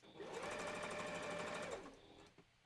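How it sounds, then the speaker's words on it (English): A sewing machine runs a fast, continuous burst of stitching along a Christmas stocking seam for under two seconds, then stops, followed by a faint brief clatter in a quiet room. "I'm definitely gonna have to sew over this again because I totally just missed the seam"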